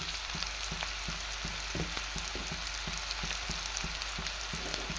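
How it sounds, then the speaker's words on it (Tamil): Onions sauté in hot oil for drumstick gravy, a continuous close sizzle and hiss with regular soft scrapes of a spatula stirring through the pan. "வெங்காயம் நல்லா வதங்குது"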